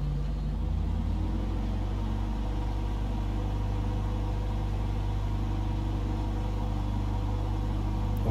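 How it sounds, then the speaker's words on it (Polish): A light aircraft engine in Microsoft Flight Simulator 2020 holds a steady run-up above 2500 rpm, a constant loud droning rumble with a dense low hum that never changes pitch. "I jeszcze próba silnika, powyżej 2500 obrotów."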